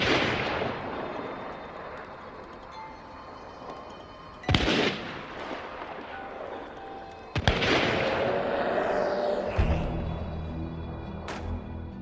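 Nitro ammunition firing in Hunt: Showdown, three loud violent snaps spaced several seconds apart, each cracking sharply and trailing into a long rumbling echo.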